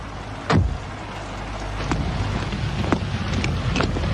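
Wind gusts and rain hiss steadily through a radio drama scene, with a few swooping whooshes and brief knocks standing out against the blustery background, no talking.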